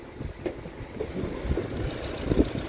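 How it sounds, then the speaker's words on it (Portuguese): The 1.8-litre four-cylinder engine of a Fiat Argo HGT runs with a low, steady hum and slight rough pulsing, heard close with faint background noise. "O motor quatro cilindros trabalhando."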